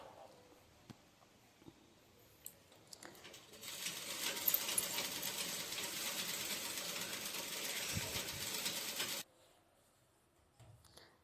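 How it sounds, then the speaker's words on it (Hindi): A sewing machine stitches a sleeve onto its lining, whirring steadily for about six seconds after a few light clicks, then stopping abruptly; close and moderately quiet. "अभी मैं सिल रही हूँ बाजू को, ऐसे अस्तर से मैं सेट कर रही हूँ"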